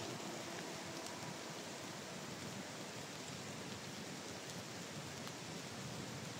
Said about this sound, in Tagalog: Ulan na guys.